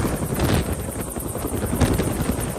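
Military helicopter hovering over the sea during a torpedo recovery, a steady, loud rotor roar with wind buffeting that continues throughout, with no voices.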